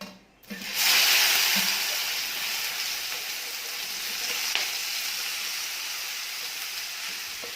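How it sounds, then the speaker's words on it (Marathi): Okra dropped straight into hot oil with a little turmeric, setting off a steady loud sizzle after a brief clatter. The frying stays close and even, with faint stirring and no talk. "ह्या तेलामध्येच डायरेक्ट भेंडी घालून घ्यायची"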